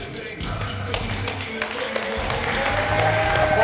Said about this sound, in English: Applause for Fred Rosser.